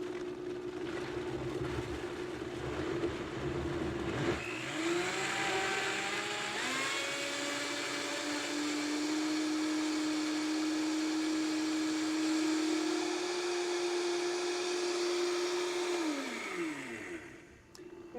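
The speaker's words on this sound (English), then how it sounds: "we're going to start the machine on variable speed 1, work it up to 10, we're going to flip it up to high and let it run" A Vitamix blender's motor climbs in pitch through its speeds, then holds a loud, steady high-speed whine while heating soup until hot and steamy, and finally spins down as it is switched off.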